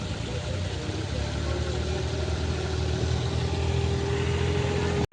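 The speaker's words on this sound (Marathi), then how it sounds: "आणि आता फायनली ट्रॅक्टर बघा गेले" A tractor engine runs steadily during rice-paddy transplanting work in muddy fields, a continuous loud mid-to-low rumble with a faint tonal whine that holds even throughout, then cuts off abruptly at the very end.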